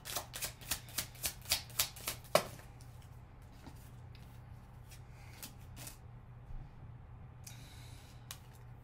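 Doreen Virtue oracle cards are riffled in a quick run of about eight sharp, evenly spaced shuffles that end in a thump, followed by quieter card handling and faint rustles, close up and alone.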